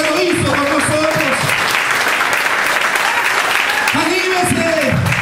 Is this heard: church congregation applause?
yes